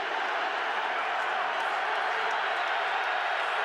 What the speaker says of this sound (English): So this Pittsburgh crowd with a chant of defense, defense.